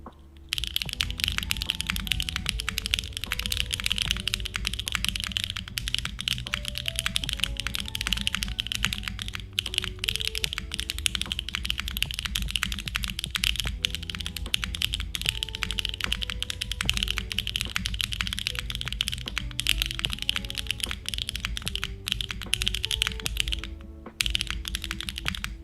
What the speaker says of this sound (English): This is what peak typing experience sounds like